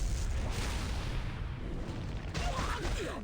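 Booming, blasting impact effects from a rocket punch attack in the Epic Seven video game, a dense, steady roar of crashes during a guild war battle, with a brief brighter burst near the end.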